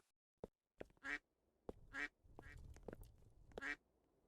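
Three cartoonish duck quacks from the Roblox Bird Obby video game, spaced about a second apart and loud and close, with soft clicks and a low game rumble between them.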